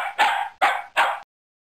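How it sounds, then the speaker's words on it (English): Three sharp, evenly spaced dog barks from the children's computer game JumpStart Kindergarten, loud and close with brief gaps between them, followed by silence. "Dog."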